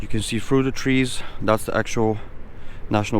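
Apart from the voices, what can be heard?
No everyday noises stand out.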